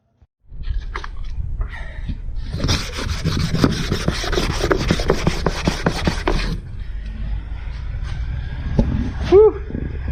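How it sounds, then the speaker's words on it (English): Fiberglass on a jet boat is sanded by hand with sandpaper in rapid, rasping back-and-forth strokes for about four seconds, loud and close. Quieter rubbing comes before and after, with a brief vocal sound near the end. "I've been sanding this for about an hour. My arm's about to fall off. I should probably have some kind of sander, but I've just been using sandpaper"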